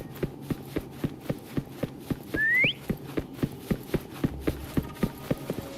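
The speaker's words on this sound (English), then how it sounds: "Try whistling." A single rising whistle, played to call a horse in the video game Wuthering Waves, sounds over a steady clip-clop of hoofbeats and lasts about half a second.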